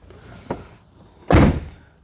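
The door of a 2002 Ford Thunderbird is shut with a solid, close thunk, preceded by a softer click of the latch being handled.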